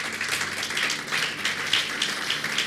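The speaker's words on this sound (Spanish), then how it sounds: "Dale un aplauso a eso." Church congregation applauding during a sermon, a steady wash of clapping that holds at an even level for the whole stretch without pause.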